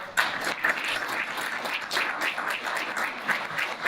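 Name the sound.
applause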